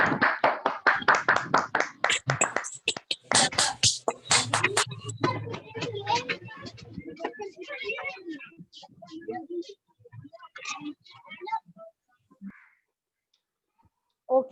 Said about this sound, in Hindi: तो सबके लिए जोरदार एक बार तालियां हो जानी चाहिए हमारे युवा नाथ के कमेटी मेंबर्स के लिए।